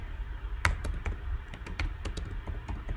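A computer keyboard clicks steadily as text is typed, close up, with keystrokes in a quick uneven rhythm and one sharper tap early on.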